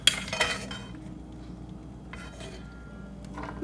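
A metal utensil scrapes and clinks against a frying pan as browned cashews are lifted out, a few sharp clatters at the start, then quieter intermittent scraping with a faint sizzle underneath.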